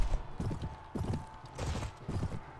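Horse hooves clip-clop in the video game Mount & Blade with the Floris mod, a series of close, rhythmic hoof beats arriving in bursts.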